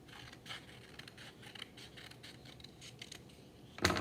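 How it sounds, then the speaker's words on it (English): Soft, repeated snipping of scissors cutting through paper, a quiet rhythmic series of small cuts ending with a louder rustle. "Pick up your scissors and cut on the line."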